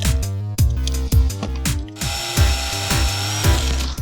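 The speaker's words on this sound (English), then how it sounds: "Let me drill some holes through that." A power drill bores holes for a homemade Halloween electric chair prop, starting with short, rhythmic bursts of whirring and clicking, then settling into one loud, continuous drilling run close by.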